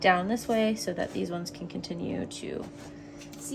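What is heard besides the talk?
No everyday noises stand out.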